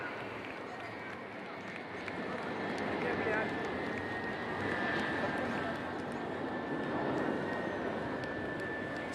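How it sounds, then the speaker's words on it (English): IL-78 MKI aerial refuelling tanker with two Mirage 2000 jets passing over the beach during an Indian Air Force flypast, a broad distant roar swelling gradually and sustained throughout, with faint crowd noise. "அடுத்த வரிசையில் IL-78 MKI மற்றும் 2 மிராஜ் 2000 ஆகியவை உள்ளன."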